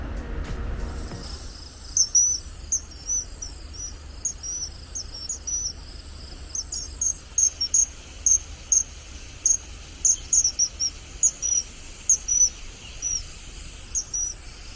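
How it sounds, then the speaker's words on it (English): Rapid, high-pitched piping calls of a kingfisher in short repeated bursts, a shrill bird call sounding alone over a quiet outdoor background. "this is the standard call of a kingfisher that you'll often hear"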